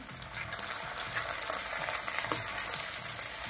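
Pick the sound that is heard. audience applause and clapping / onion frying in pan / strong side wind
onion frying in pan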